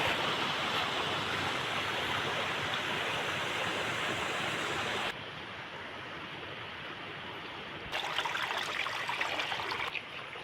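Floodwater gushes after heavy rain across waterlogged paddy fields, a loud steady rush that drops back for a few seconds before surging again near the end.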